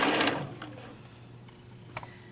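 A sewing machine stitches a quarter-inch seam along quilt fabric strips in a brief, close whir that fades to quiet mechanical ticks.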